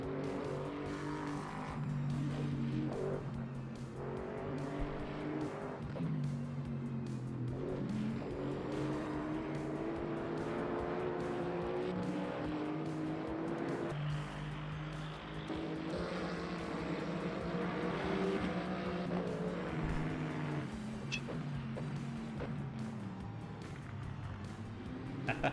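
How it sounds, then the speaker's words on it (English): Hypercars race past in the Le Mans Ultimate game at Circuit of the Americas, a steady engine drone swelling and shifting pitch as cars pass, heard from inside a car at moderate level. "Incoming hypercars."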